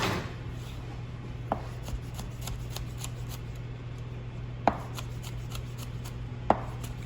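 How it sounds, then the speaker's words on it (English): A knife slicing a jalapeno on a cutting board, a few sharp isolated taps and cuts spaced seconds apart over a quiet steady hum, close and clear. "I kind of call it filleting a jalapeno"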